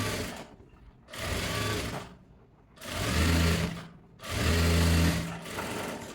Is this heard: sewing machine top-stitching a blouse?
yes